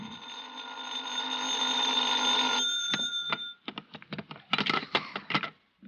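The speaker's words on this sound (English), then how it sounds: "I was still in bed when the phone rang." Old-time telephone bell ringing in a radio drama, a sustained metallic ring for a few seconds, then a handset being picked up with a series of clicks and clunks.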